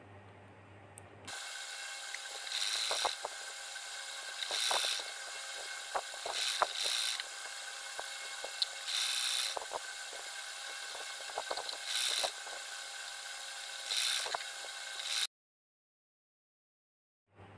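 A sewing machine stitches piping onto a folded fabric sleeve, running in steady bursts of whirring with brief pauses between seams, close and even, with no talking.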